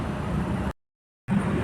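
A red bus with white, yellow and gold markings pulls away from the Kampung Rambutan terminal during the holiday exodus, its engine a broad, steady rumble with traffic noise, cut by a brief gap of silence.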